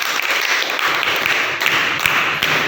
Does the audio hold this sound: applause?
yes